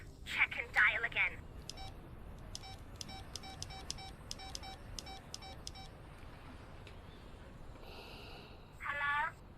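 A telephone number is dialed by keypad in a TV drama scene, a rapid string of clean DTMF tones in two bursts. Brief voiced sounds come before and after the tones.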